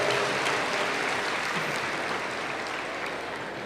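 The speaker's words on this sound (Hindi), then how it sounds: "ताली बजाओ जोर से।" An audience at a spiritual gathering claps loudly in a dense, steady burst that fades slightly toward the end, with no voices over it.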